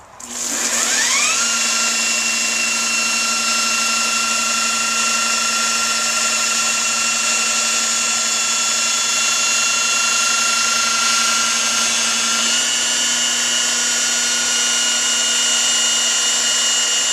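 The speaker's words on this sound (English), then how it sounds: "So I've got my grinder with the 6-inch backing pad on it already." Handheld grinder fitted with a 6-inch Velcro backing pad and a Renu red abrasive disc, spinning up quickly into a loud, steady high-pitched whine that holds close and unbroken throughout.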